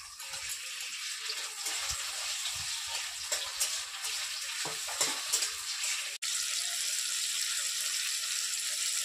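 Chopped tomatoes hitting a pan of already fried capsicum for a fish curry, giving a steady bright sizzle with faint stirring scrapes, close and fairly quiet, no talk.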